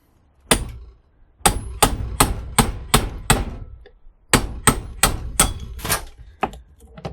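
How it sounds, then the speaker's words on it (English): A hammer strikes a steel punch to flatten cash register steel held in a vise, two loud, close bursts of sharp metallic blows, about five or six evenly spaced hits each, separated by a short pause. "I'm going to use a punch to punch this steel down."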